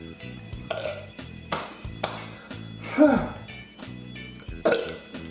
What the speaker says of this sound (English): give a hiccup and a burp